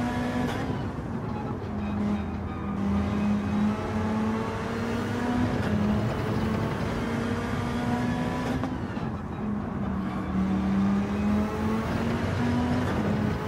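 A McLaren race car engine in Gran Turismo 7 holds a loud, steady high-revving drone, rising and falling with gear shifts and other cars nearby, with no talk over it.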